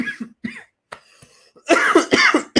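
Several harsh coughs and throat clearings from one person, close and loud, starting with smaller hacks and ending in a string of heavier coughs.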